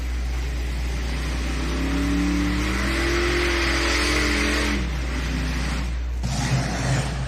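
A pulling truck at a tractor pull in Bowling Green, Ohio revs its engine hard in a sustained, rising roar, then the throttle backs off and the engine drops to a lower rumble at moderate distance.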